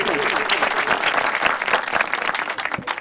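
An audience applauds to welcome a young man at a Republic Day gathering: dense, loud, close clapping from a crowd, continuous throughout and tapering slightly at the end.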